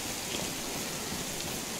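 Steady rain hissing down in DayZ, a dense, even wash of broadband patter that holds at constant level for the whole stretch with no voices.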